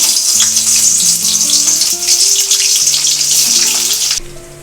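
Cauliflower florets fry in hot oil in a home kitchen, giving a loud, steady sizzle with a low tonal hum beneath it. The sizzle drops off sharply near the end.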